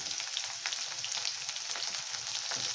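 Capsicum is added to paneer frying in a pan for chili paneer, giving a continuous, even hiss and sizzle with small crackles throughout.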